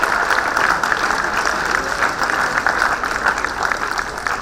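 Sustained audience applause at a fintech conference welcoming a guest on stage, a continuous dense wash of clapping from a large seated crowd.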